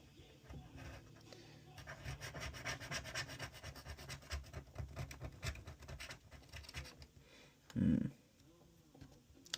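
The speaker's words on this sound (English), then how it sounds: "So like all of this residue can get scraped off like this." Adhesive residue scraped off an iPad A2602 during a digitizer repair: a close, continuous rough rubbing and scratching that runs steadily, ending with a single louder knock near the end.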